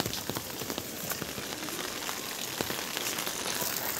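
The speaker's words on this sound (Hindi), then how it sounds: "तो अभी लगी है बारिश" Rain falls in a village in Uttarakhand, a steady dense patter of drops striking surfaces with scattered sharper taps, fairly quiet and continuous, with no voices.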